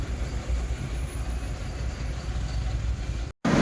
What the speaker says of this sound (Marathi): ही चाळीसगाव धुळे लोकल आहे